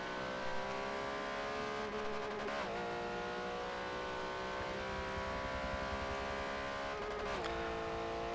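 Porsche Cayman GT4 Cup race cars lap Virginia International Raceway, with a steady engine drone that shifts pitch as the cars accelerate and downshift, plus a couple of gear changes.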